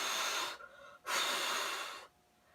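A narrator's voice imitates the big bad pig huffing and puffing at the little wolves' house: two long, close, breathy blows separated by a short pause, with no words spoken.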